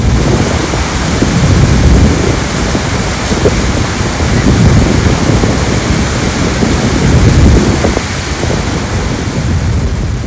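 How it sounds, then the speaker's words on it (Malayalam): The American side of Niagara Falls roars in a loud, continuous broadband rumble of falling water crashing onto rocks, with heavy low-end surging and gusts of wind buffeting the microphone throughout. "ഈ വെള്ളച്ചാട്ടത്തിൻ്റെ ശബ്ദം ശാന്തമായ രാത്രിയിൽ നാൽപ്പത്തെട്ട് കിലോമീറ്റർ വരെ കേൾക്കുവാൻ കഴിയും"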